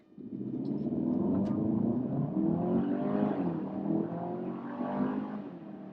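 A Kia Sorento SX in smart mode accelerates hard from 0 to 60, its engine droning loud and steady from inside the cabin with rising tonal whine as gears shift, no talking.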